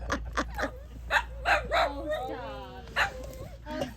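Several dogs bark and yip in short, uneven bursts close by, with a whining, whimpering stretch in the middle, while people talk nearby.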